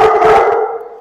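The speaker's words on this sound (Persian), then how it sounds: "هاسکی اصلا سخنگویه، از الان داره صدا میکنه" A husky gives a loud, close, wavering howl that rises briefly and then trails off into a sustained tone, with no one talking.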